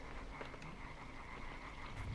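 Frogs croak in the dark forest of the video game Limbo, a steady low ambient chorus with faint rhythmic calls that swell slightly at the end, heard alone with no talking.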